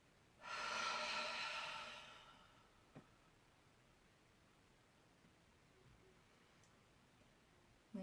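A single long exhale during a yoga breathing exercise, a soft, steady breathy rush lasting over a second, then near silence with a faint tick.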